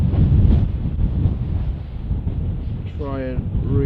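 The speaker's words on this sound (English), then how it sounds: "it's really windy" Heavy wind buffets the microphone at a wild camp with a constant low roar and rumble; near the end a voice briefly speaks over it.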